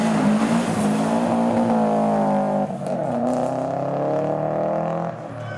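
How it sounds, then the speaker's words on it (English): A Subaru rally car engine revs hard and continuously at night, its pitch climbing and dipping as it drives nearby, loud and alone. "All we can hear is a Subaru"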